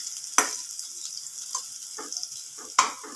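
Malai kofta ingredients frying in a pan give a soft continuous sizzle with a few sharp stirring scrapes, close and moderate in level, with no talking.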